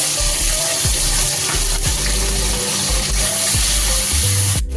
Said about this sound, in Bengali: বাটিটা দিয়ে একটু জল দিয়ে দিলাম।